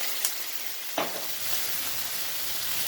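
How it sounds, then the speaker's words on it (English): Hot sesame oil hits a chicken and mixed-vegetable stir-fry, giving a loud continuous sizzle with a couple of sharp clinks of the utensil against the pan. "And then, the end, I add some hot sesame oil."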